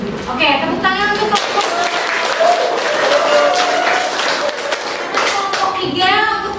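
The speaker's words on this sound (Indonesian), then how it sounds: "tepuk tangan untuk" A classroom group claps together in a pharmacy academy lesson, a loud burst of hand clapping that carries on steadily while children's voices and chatter mix in.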